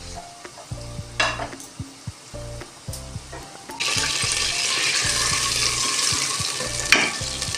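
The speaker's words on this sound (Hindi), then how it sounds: "इस स्टेप पे हमने डालना है ये मेथी दाना थोड़ा सा" Fenugreek seeds go into hot oil for a pakora curry: light clinks and stirring at first, then a loud, steady sizzle of frying that holds to the end.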